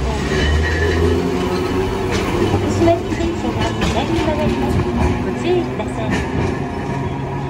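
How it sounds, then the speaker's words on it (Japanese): A Hiroshima Electric Railway streetcar turning left from the main line onto the Hakushima line rumbles steadily with low rail and wheel noise close by, while an automated announcement voice speaks over it. "福島行き電車が左に曲がります。"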